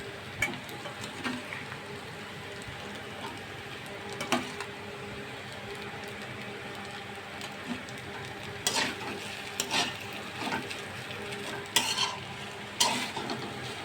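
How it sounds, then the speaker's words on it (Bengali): Vegetables stirred into rice in a lightly oiled pan for Bengali-style vegetable rice, giving a soft continuous sizzle with scattered spoon scrapes and clinks against the pan, fairly quiet and close. "অল্প অল্প করে সবজিগুলো দিব, যাতে খুব ভালোভাবে মিক্সড হয়।"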